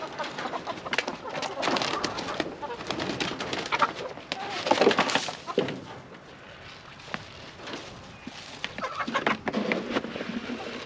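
Chickens at a homestead coop cluck and coo close by, with scattered rustling and movement sounds mixed in.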